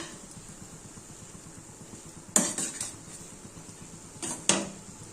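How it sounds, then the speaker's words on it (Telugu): Metal spoon scraping and clanking against a cooking pot while chili powder is stirred into a curry, with two short bursts of clatter over a quiet kitchen background; no one speaks. "ఇంకా కొంచెం కారం వేసుకొని బాగా కలుపుకోవాలి."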